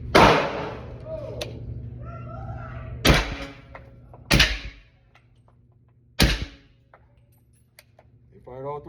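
A 300 Blackout rifle fired through an Energetic Peak 30 suppressor, with three loud, sharp suppressed reports spaced a few seconds apart, close by. A voice is heard before them and another at the end.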